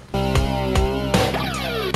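A bright, buzzy synthesized tone from the Mother 3 video game soundtrack holds steady and is broken by two brief noisy bursts, then ends in a quick downward sweeping scrape imitating a guitar pick scratch.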